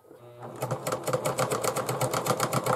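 Sewing machine stitching a zigzag across a bag handle, a fast steady mechanical clatter that starts after a brief quiet moment and runs continuously, close and fairly loud.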